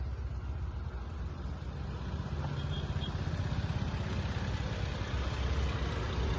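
A car engine runs steadily as the car moves slowly forward during an uphill driving skill test, a continuous mid-pitched hum with a low rumble that builds slightly toward the end.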